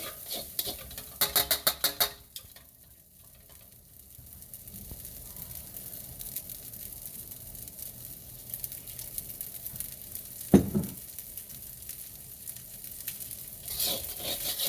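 Fried rice sizzling in oil in a pan, a steady soft crackle with rapid stirring taps at the start and one louder scrape of the utensil later, close and without talk.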